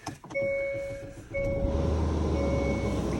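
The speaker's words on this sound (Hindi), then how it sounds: "ओके, गाड़ी ऑन की जाए।" A rental car from a Winnipeg car co-op starting up in winter, with steady electronic chime tones followed by the engine catching and settling into a loud, continuous idle rumble.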